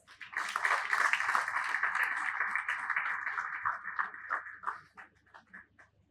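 An awards-ceremony audience bursts into loud, dense applause that holds for about four seconds, then thins into scattered claps and fades out.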